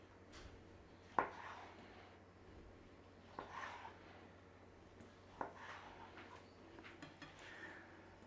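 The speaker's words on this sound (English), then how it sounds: "So just slice through your sausage." A knife slicing through sausage on a board, three separate faint cutting knocks spaced a couple of seconds apart over a quiet kitchen background.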